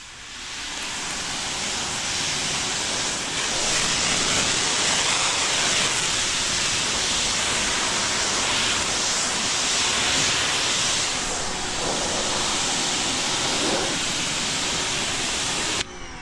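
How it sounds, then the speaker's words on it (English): Pressure washer fitted with a green tip nozzle and extension wand rinses a car, giving a steady, loud, broadband hiss of spraying water that runs continuously for the whole stretch with no talk. "So I'm gonna be using the green tip nozzle, and I'll show you guys how the rinsing is."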